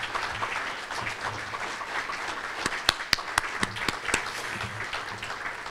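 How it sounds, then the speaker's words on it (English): An audience at a chamber of commerce luncheon gives a round of applause, a steady dense patter of many hands, with a few sharper, closer claps standing out partway through. "please help me give them a thank you by giving our board of directors a round of applause"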